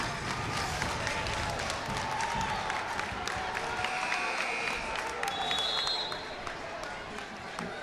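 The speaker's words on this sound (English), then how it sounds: "the crowd is getting feisty" Steady crowd noise from a packed high school basketball gym during a county semifinal, with broad clapping and murmuring voices rising and falling at a constant fairly loud level throughout.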